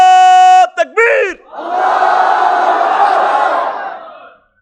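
A large crowd at a Bangla religious sermon gathering roars a chant together in reply to the preacher, a sustained loud massed shout following a brief sung or called line from the leader.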